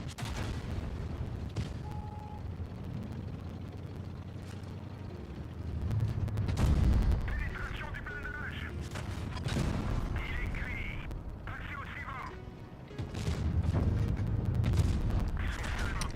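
Tank guns fire in a video game tournament battle. Deep booming shots and rumbling blasts rise over a steady mechanical background, with low voices present.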